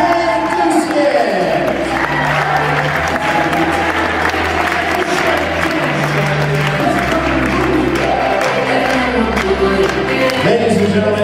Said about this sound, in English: a round of applause for the patron of honor, Shannon Bertrand